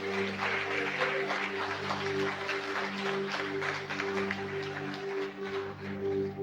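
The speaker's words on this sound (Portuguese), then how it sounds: "As palmas louvem ao Senhor nessa manhã." A church congregation claps during a morning worship service, a steady broadband patter of many hands sustained for several seconds under a sustained musical tone.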